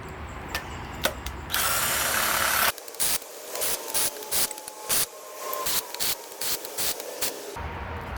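Head bolts being run out with a ratchet during a Honda D16Y7 engine teardown: rapid close ratchet clicks in repeated short bursts, following an earlier stretch of hissing spray-like noise and a few sharp taps.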